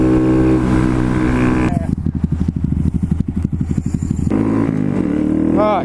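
A Honda Grom motorcycle fitted with a 14/37 sprocket revs up through the gears, its engine note climbing, dropping at a shift into a pulsing midrange growl, then rising again, loud and close with wind noise.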